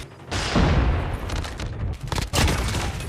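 Gunfire in the mobile shooter Call of Duty Mobile, a few loud, close shots with booming tails in quick succession, with no voices heard.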